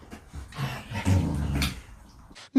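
A dog growls low and steadily over its food, a close rumbling snarl with short pauses, heard alone without speech.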